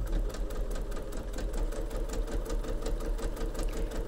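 Sewing machine stitching a row of quilt piecing with pins along the seam: a steady, close, rapid needle chatter with a low motor hum running throughout, no voices.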